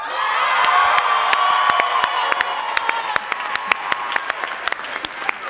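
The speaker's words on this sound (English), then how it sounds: "Now let's judge by applause." An awards-show audience bursts into loud applause and cheering, dense clapping with whoops at first, then thinning to scattered individual claps toward the end.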